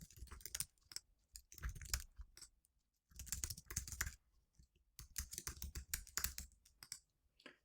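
Computer keyboard typing as record data is entered into FileMaker, in three dense bursts of rapid clicking keystrokes separated by short pauses, fairly close and clear with no voices.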